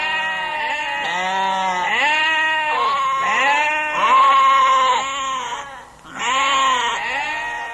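Several goats bleat in close succession, loud and near, their wavering calls overlapping with brief pauses between, with no talking.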